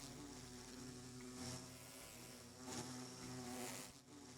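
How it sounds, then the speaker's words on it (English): Angry bees from the Resourceful Bees mod in Minecraft buzz in a steady, dense drone that swells in a few places, with no talk over it. "If a bee gets angry like that, just leave them a while and they should go back to normal."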